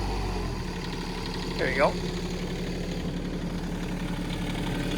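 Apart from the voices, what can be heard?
excavator engine idling with throttle brought down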